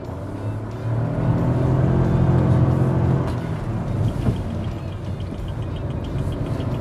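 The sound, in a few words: Caoa Chery Tiggo 3X SUV emergency braking test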